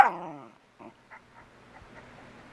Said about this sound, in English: he heard something on television and he started barking